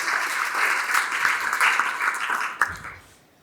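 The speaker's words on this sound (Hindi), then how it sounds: "सो प्लीज़ एक बार इनके लिए तालियां बजा दें" Applause from an audience celebrating local heroes at a public event, a steady dense crowd clapping that swells briefly then fades out toward the end.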